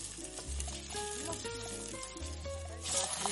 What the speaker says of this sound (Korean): 고소한 감자 수제비를 위해 감자를 잘 볶아주세요.